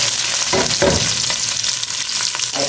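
Chili hits a hot pan with sardines and sizzles steadily, with a few scraping stirs of a utensil against the pan over the constant crackle.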